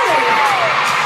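A huge stadium concert audience roars with sustained loud cheering and shrill screams, a thick unbroken wall of crowd noise throughout.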